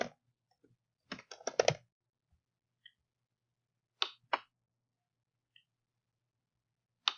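Bursts of typing on a computer keyboard while someone fills in an online sales form, quick clusters of key clicks separated by pauses and a few isolated taps, close and crisp in an otherwise quiet room.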